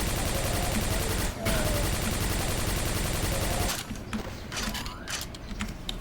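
Rapid automatic gunfire rattles continuously in the video game Quake 4, a dense stream of shots that breaks briefly, resumes, then gives way to scattered clicks and mechanical noises.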